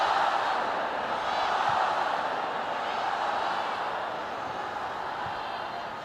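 Women's football crowd at Arsenal's home match against Leicester City, a steady broad murmur and hum of many spectators filling the stadium at a constant, moderate level with no distinct chants or bursts.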